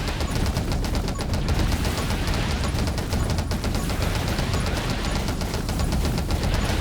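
Rapid gunfire from the top-down survival shooter 20 Minutes Till Dawn fills the whole stretch as a dense, steady barrage of overlapping shots with no speech.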